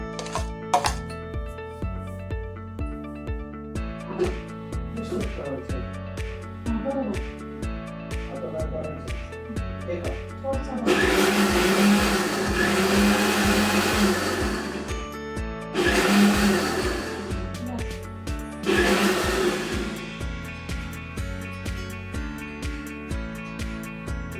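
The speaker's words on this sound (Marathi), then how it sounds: "हे सगळं मटेरियल मी आता मिक्सरमध्ये" Three loud bursts of an electric mixer grinder whirring as it blends raw mango, each a few seconds long, rising over steady background music.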